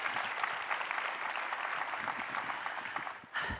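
An audience at a convention gives a sustained round of applause, steady dense clapping filling the room for several seconds before briefly dipping and swelling again at the end.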